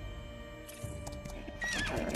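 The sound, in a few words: horse neighing in video game ARK Survival Evolved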